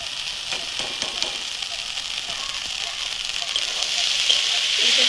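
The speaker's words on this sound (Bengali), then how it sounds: "এটা কিছুক্ষণ ভেজে নিচ্ছি।" Moringa flowers frying with turmeric and other spices in a pan, a steady, close hiss of sizzling oil that grows slightly louder toward the end.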